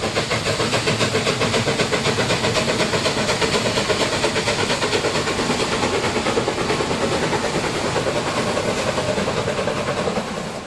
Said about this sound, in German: Den letzten Fotozug des Fanwochenendes erwarte ich am Dorfteich von Posewald.